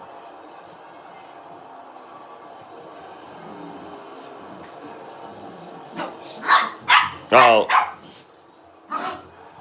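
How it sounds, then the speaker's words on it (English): A 14-year-old poodle and a puppy fight indoors, with several loud, sharp barks and yips in a quick burst near the end after a steady low background hum, and a person speaks briefly. "We got a battle between my 14-year-old poodle and my puppy."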